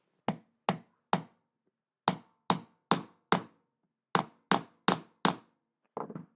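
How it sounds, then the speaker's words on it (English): Wooden knob set in epoxy being hammered into place, sharp woody knocks in three quick bursts of three or four evenly spaced blows with pauses between, close and clear with no talk. "And we can hammer this in place."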